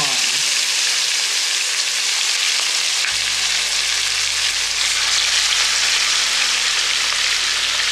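Salmon fries in butter in a pan, a loud, steady sizzle and crackle that fills the whole stretch, with a low hum of background sound underneath.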